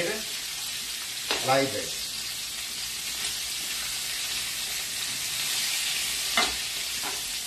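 Shrimp sizzle and fry in a hot pan on a gas stove, a steady close hiss with brief stirring scrapes, while someone speaks a few words over it.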